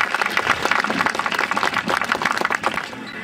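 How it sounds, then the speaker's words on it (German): Steady applause from a crowd at an award ceremony, dense overlapping claps holding at an even level for a few seconds before easing slightly. "Ich glaube, er hat einen besonderen Applaus verdient."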